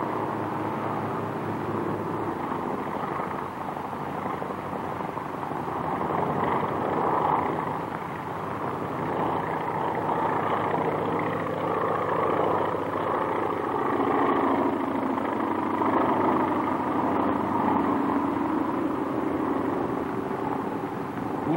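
A 1940 trainer airplane engine drones steadily during landing practice, a continuous rough mid-range hum that swells and eases slightly throughout without any talk.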